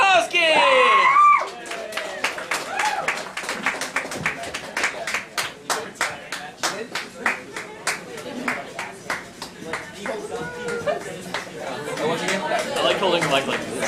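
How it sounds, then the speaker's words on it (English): Audience clapping at a live comedy show, a dense burst of applause that settles into scattered, rhythmic claps and chatter, then swells again near the end. "Stop clapping, Shashan."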